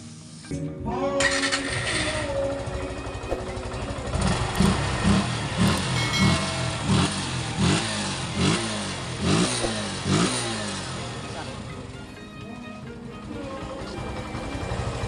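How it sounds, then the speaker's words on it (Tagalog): A Suzuki Gixxer FI motorcycle engine runs close by, idling steadily and then revving in a series of repeated throttle blips. "So, maandar na po Suzuki Gixxer."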